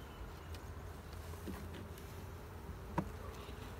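Honey bees at a beehive give a steady, low buzzing hum that runs throughout, with a few brief louder passes of a single bee close by.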